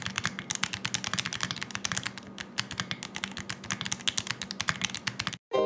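Fast, continuous typing on a Gamen Titan Pro mechanical keyboard with linear switches and a gasket mount: dense, close clacking keystrokes in an uneven flurry that stops just before the end.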